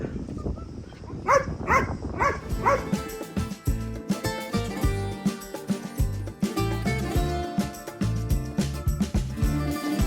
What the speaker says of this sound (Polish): Się denerwuje piesek.